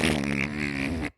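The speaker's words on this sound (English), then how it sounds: "It's just farts." A loud, sustained fart lasting about a second, a buzzing tone that holds steady and then cuts off abruptly, heard on its own with no talking.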